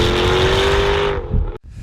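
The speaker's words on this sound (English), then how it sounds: "It opens up the sound of the exhaust." A 2016 Jaguar F-Type R sports car in sport mode with its louder exhaust opened up, revving hard and loud up close before the engine note drops off and cuts out abruptly near the end.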